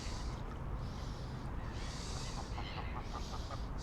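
Farmyard-style goose honks and clucking calls near a lake, a few repeated nasal calls over steady outdoor background noise, moderately close.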